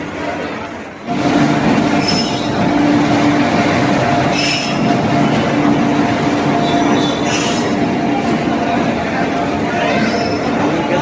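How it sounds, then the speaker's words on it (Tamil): A long multi-coach passenger rake rolls toward the Basin Bridge yard near Chennai, a loud steady rumble of wheels on rail with faint squeals and clicks, continuing unbroken after a quiet first second. "பல பெட்டிகளை கொண்ட ஸ்க்ராட்ச் வெஹிக்கிள் இப்போ பேசிங் பிரிட்ஜ் யார்டுக்கு போயிட்டு இருக்குது"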